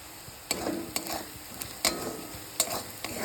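A spoon stirs cumin and coriander powder frying in a pan for an egg tarka, with sharp scraping clacks at uneven intervals over a soft steady sizzle, close and fairly quiet.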